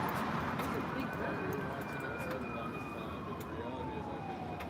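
Emergency sirens wail at a distance with a steady, slowly falling pitch, sitting above a loud wash of traffic and street noise.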